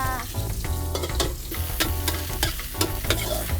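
Red curry paste stir-fried in a little oil in a pan for a shrimp chu chee curry: a dense, close sizzle broken by repeated spatula scrapes and clatters, with no talking.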